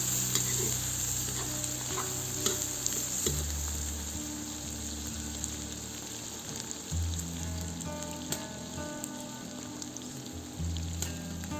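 Onions fry in a kazan over a wood fire while being stirred, a continuous close sizzle with repeated scraping stir strokes and occasional pops, and no talking.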